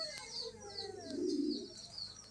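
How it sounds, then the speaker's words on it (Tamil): A pet-shop pigeon coos softly nearby, a low rolling coo swelling in the middle, with thin chirps of other birds behind it in the background. "தான் நம்ம பெட் ஷாப்பில் வாங்கின புறா."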